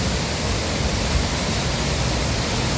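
Falling water at Huai Chang waterfall near Pai makes a constant, full rushing hiss, loud and unbroken, heard alone without talk.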